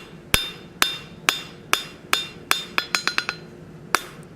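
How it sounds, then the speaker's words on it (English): Hammer blows on hot steel while forging a French repoussé stake fuller, sharp ringing strikes at a steady beat that quicken into a rapid flurry before one last blow, close and clear with no talking. "I'm actually just hammering it down much in the same way that you would do a slit chisel"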